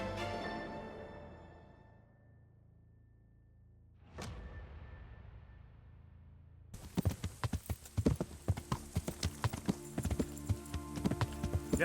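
Horse hooves clip-clopping in the medieval video game Kingdom Come Deliverance, starting after a soft ambient stretch and a brief swoosh, then a steady run of close, loud hoof strikes over a stable-yard background.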